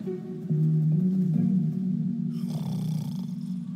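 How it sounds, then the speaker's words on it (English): A character in the video game Minecraft Story Mode snores in a low, rumbling drone, loud and close, with a soft breathy rasp near the end. "Ugh, even his snore makes him sound like a know-it-all."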